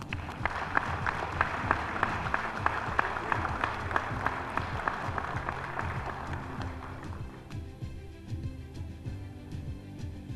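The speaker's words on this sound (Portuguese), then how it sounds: "A todos eles os nossos aplausos." Steady applause fills a legislative chamber during a special commemorative session, a crowd clapping briskly for several seconds before thinning out and fading into low room noise.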